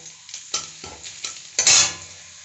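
Chopped garlic sizzling in hot oil in a pan while a spoon stirs and scrapes, with short clattering strokes and a louder burst of sizzle near the end.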